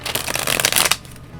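A tarot deck being shuffled, a dense run of crisp riffling card flicks for about a second, close and fairly loud, then stopping into quiet.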